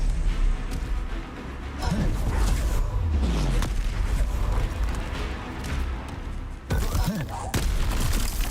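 Explosive Confringo spell blasts in the video game Hogwarts Legacy, several booming bursts thudding through a dense, noisy game soundscape.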